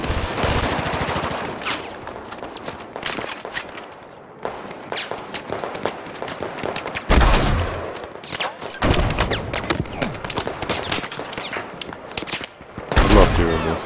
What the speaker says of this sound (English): Man, this gun has a lot of recoil